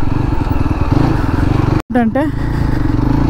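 A 2024 Yezdi Adventure motorcycle engine thrums steadily and loudly while riding, with a brief dropout midway, as someone talks over it.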